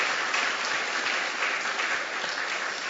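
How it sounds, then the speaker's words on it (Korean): Church congregation applauding during a New Year's Eve worship service, a steady, even roar of many hands clapping for the whole stretch, heard from a moderate distance. "그렇게 하실 우리 하나님께 박수로 감사하겠습니다."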